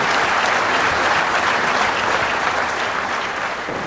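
An audience clapping during a televised interview with a Punjab governor, loud, sustained applause from many hands that runs evenly throughout with no speech over it.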